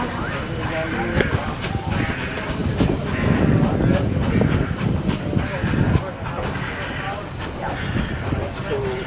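The Durango–Silverton train rumbles steadily as it rounds a curve in Colorado high country, a continuous mechanical drone with people talking over it.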